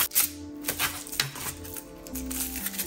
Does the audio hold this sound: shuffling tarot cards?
yes